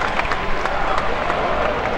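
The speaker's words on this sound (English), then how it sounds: "he's getting some encouragement here from the crowd" Baseball crowd in MLB 2K5, an Astros versus Braves game, giving a steady roar of cheering and clapping from a large stadium audience, continuous and moderately loud with no distinct voices standing out.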